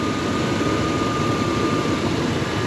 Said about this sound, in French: compresseur qui vient de se mettre en marche